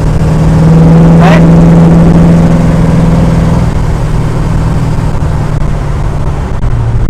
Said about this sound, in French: quand vous avez cette sonorité, quand vous avez le glou-glou du V8